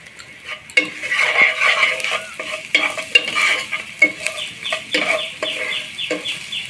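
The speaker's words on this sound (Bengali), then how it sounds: "দিয়ে ভালো করে ভেজে নিব দিয়ে দেবো স্বাদ মতো লবণ" Chana dal fried with salt in a pan, the sizzle rising and falling under repeated spatula stirs and scrapes against the metal, close and fairly loud with no talking.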